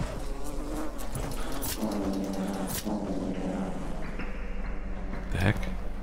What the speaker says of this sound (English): Oh no, the bees!